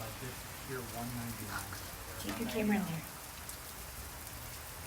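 Steady rain falls outdoors as a constant hiss, heavier in a brief middle swell, while people talk over it close by.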